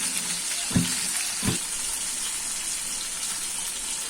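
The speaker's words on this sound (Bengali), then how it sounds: "সেজন্য প্রথমে আমি মাছগুলোকে সামান্য পরিমাণ হলুদ মরিচ দিয়ে মেখে ভেজে নিচ্ছি" Tilapia pieces rubbed with turmeric and chili fry in hot oil, making a steady, soft sizzle with two brief thuds or clatters near the start and no talking.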